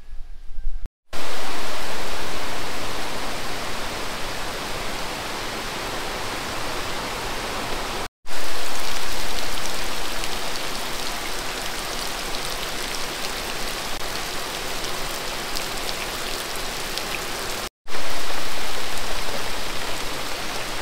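Steady, dense rain pouring down on a farm in the Philippines, a loud continuous hiss broken by a few brief dropouts, with no voices over it.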